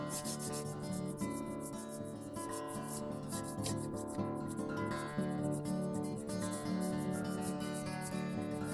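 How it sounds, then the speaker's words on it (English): Steady, continuous rubbing of sandpaper across a small plastic HO scale model part, close by and even in rhythm, with faint tonal background hum. "You saw it doesn't take much sanding at all."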